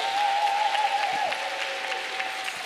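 An audience at a clergy gathering claps for a band member, a steady patter of applause that fades slightly, with a sustained organ-like tone lingering underneath at first.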